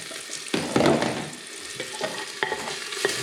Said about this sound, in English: Hey Joe, I'm sweating down the onions.